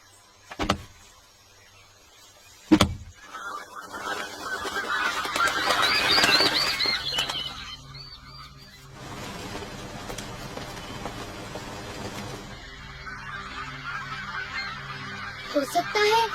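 Disturbed birds squawk and call in agitated bursts amid the noise of trees being cut, with a couple of sharp knocks early on and a busy outdoor background.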